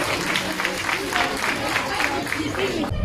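A convention audience applauds steadily for a few seconds, a dense wash of clapping that stays at a moderate level, with a voice speaking over it.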